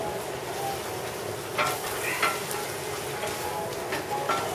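Peach, pepper and mustard barbecue sauce ingredients are stirred together in a bowl, a steady soft scraping and swishing with occasional brighter scrapes throughout and no voices.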